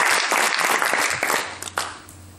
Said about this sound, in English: a big clap for the final speech of the debate